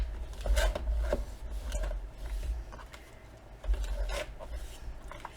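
A large paper trimmer slicing through cardstock in a papercraft workspace, heard as a few close rasping, scraping blade strokes with short pauses between them and no talking.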